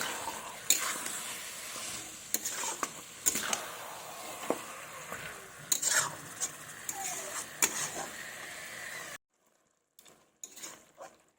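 Mutton sizzles in mustard oil in a pan at home, with soft frying crackle under repeated clinks and scrapes of a spoon stirring the meat, then a brief near-silence with a few faint stirs.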